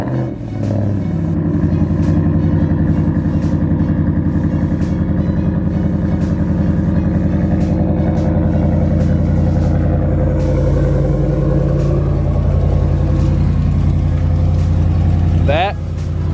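A pickup truck engine idles with a steady low rumble close by, a person talking over it, ending with a brief squeal.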